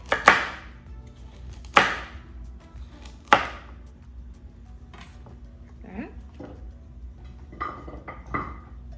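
Sharp knife strokes cut through corn and carrots on a cutting board for vegan pho: three loud, evenly spaced chops up close, then lighter clicks and taps, with a voice speaking in between.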